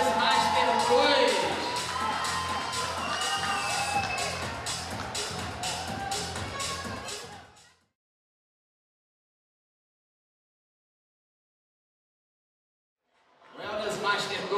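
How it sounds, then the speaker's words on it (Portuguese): Audience at a wellness bodybuilding competition for over-40 athletes on stage, loud crowd cheering, whooping and clapping with a voice talking over it, cutting to silence midway before noise returns at the end. "Uma salva de palmas para o Ed Wellness Master 2"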